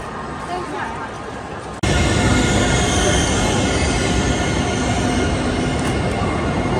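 A train runs beside a station platform on a route from China to Thailand, a loud steady rumble of wheels and carriages that jumps up abruptly and then continues under faint crowd babble.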